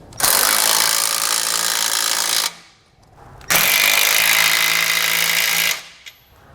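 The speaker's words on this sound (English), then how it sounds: "We can then come back now and tighten down our remaining pieces of hardware here." Power tool tightening bolts on a base plate kit being installed on a 2018 GMC Sierra 1500, two loud, close, continuous bursts of whirring and rattling of a few seconds each, separated by a short pause.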